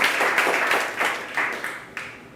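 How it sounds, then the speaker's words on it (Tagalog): A church congregation claps loudly for the Lord in a quick, rhythmic burst of applause that slowly fades over a couple of seconds. "Come on, malakas na palakpak para sa ating Panginoon."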